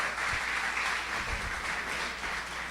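A church congregation applauds a bishop, giving a steady, even wash of many hands clapping at moderate volume throughout, with no voices rising above it.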